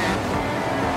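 A Porsche hypercar roars in a racing video game, a dense, steady engine drone at high revs that fills the clip without a break.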